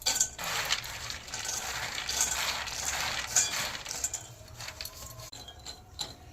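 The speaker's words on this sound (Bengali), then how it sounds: "প্রথমে আমরা শুকনো খোলাতে বাদামটা ভেজে নেব।" Peanuts dry-roasting and being stirred in a dry pan, giving a steady dense clatter and rattle of shells against metal with irregular sharper clinks throughout.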